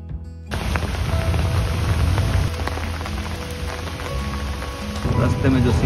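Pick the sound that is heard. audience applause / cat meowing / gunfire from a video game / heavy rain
heavy rain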